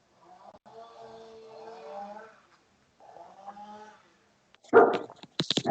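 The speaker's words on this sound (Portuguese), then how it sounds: "minha cachorra tá latindo" Sharp, loud barks burst out near the end after a stretch of quiet talking; a few rapid close barks from a sick female dog.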